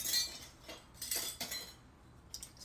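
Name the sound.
metal canning jar rings being picked up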